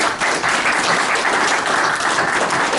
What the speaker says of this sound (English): Another big round of applause for Victor